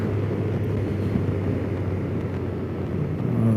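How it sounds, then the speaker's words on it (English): Road traffic heard from inside a car: a steady low drone of the engine and tyres, constant and fairly loud, with no voices over it. "Oh, this traffic, oh God."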